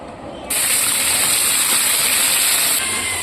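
Carrot and capsicum frying in white oil give a loud, steady hiss that bursts in and holds, a close sizzle with no talking.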